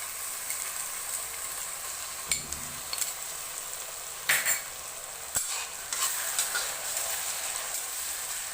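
Ginger, garlic and cumin paste frying with browned onions for a mutton curry, a steady sizzle in the pan broken by several sharp scrapes and clinks of a stirring spoon, close and alone without talk.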